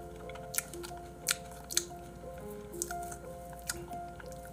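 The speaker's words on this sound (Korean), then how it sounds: "아삭아삭 소리 나 지금 딸기 씹으면." Frozen strawberries crunched and chewed at close range, with sharp crisp bites at irregular intervals over a faint steady background tone.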